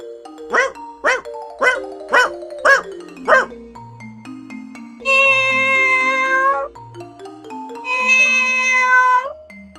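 A dog gives five short, evenly spaced barks, then a cat lets out two long, drawn-out meows, loud and close.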